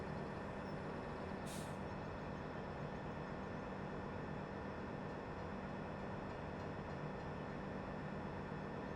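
A long freight train in the Farming Simulator 17 video game rumbles steadily and loudly throughout, with a brief hiss like an air brake early on and no talking.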